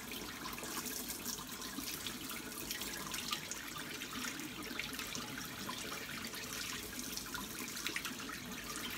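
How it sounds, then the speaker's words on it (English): A steady, loud rush of boiling water poured continuously over a plastic toy wing, dense and splashy throughout. "We pour the boiling water over it."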